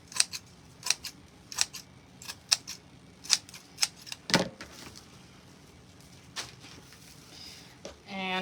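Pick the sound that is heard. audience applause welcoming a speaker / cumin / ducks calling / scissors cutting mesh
scissors cutting mesh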